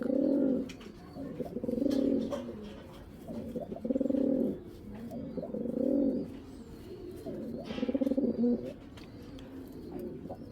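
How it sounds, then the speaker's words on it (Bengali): Pigeons coo in repeated low, throaty bursts, several rounds in a row, close by with faint rustling between calls. "দেখেন কবুতর কাকে বলে, জাস্ট নর্মালি খেয়াল করেন।"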